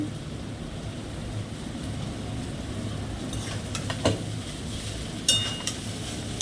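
Sago being added to a hot pan and cooked without water in a home kitchen, a low continuous frying hiss with occasional scraping stirs and small clinks toward the end.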